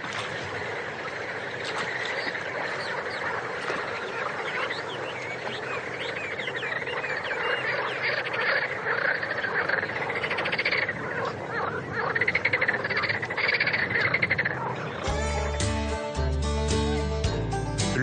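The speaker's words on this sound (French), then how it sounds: "vous entendez les grenouilles. Des millions de grenouilles. Différents appels de la grenouille, des chants d'accouplement" Dense chorus of frogs giving mating calls in the wetlands of the Danube Delta, a continuous layered croaking and trilling from countless animals near and far, with a brief burst of other noise near the end.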